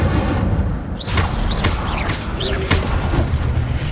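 Incendio fire spell cast in the Hogwarts Legacy video game: a sustained roaring, booming burst of magical fire with whooshing swells and sharp flares, loud and steady throughout, with no talking.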